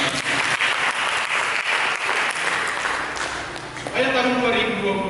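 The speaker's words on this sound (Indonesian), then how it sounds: "Mari berikan tepuk tangan." A church congregation bursts into dense, loud applause that fills the room and carries on steadily, with a voice talking over the clapping toward the end.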